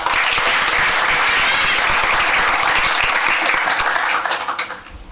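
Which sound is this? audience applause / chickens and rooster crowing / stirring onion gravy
audience applause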